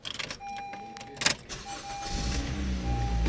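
A 2014 Honda Civic starts up: a chime sounds inside the cabin, then there is a short burst of noise as the engine catches and settles into a rising, steady idle rumble.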